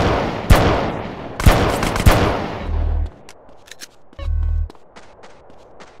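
Gang war gunfire in GTA San Andreas: loud, sharp gunshot bursts crack out near, one after another, mixed with low engine-like drones, then fainter distant shots scatter afterward.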